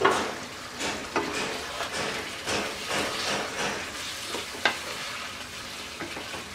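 Chicken curry fries and is stirred in a pan, a close crackling sizzle broken by repeated scraping strokes and light knocks of the spoon against the pan, with no voices.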